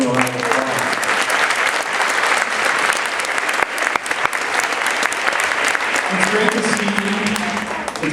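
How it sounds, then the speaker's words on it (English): A school winter concert audience applauds the jazz band, with dense sustained clapping filling the hall and a few cheers near the end. "Let's give them a round of applause."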